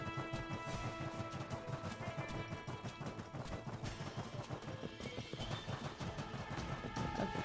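Rapid hoofsteps of a goat mount in the game My Time at Sandrock, a brisk, steady clopping rhythm close by that runs continuously over a light musical backdrop.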